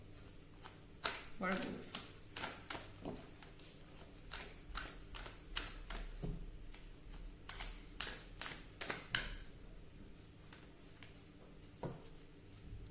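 Oracle cards shuffled for a tarot-style reading, a string of quick crisp riffles and taps heard close up while someone talks quietly over them.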